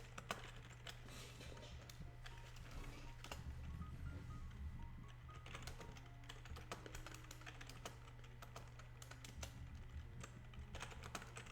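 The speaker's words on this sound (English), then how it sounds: "I need to get better at touch typing." Keys clatter on a computer keyboard in steady, quiet bursts during a game development session, with a low constant hum beneath and no talking.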